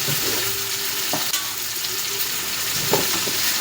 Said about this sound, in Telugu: ఇప్పుడైతే దీన్ని బాగా ఆయిల్లో ఫ్రై చేసుకోవాలి.